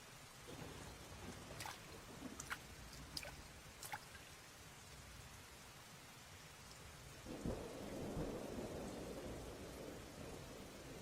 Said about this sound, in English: there usually isn't this much rain around here this time of year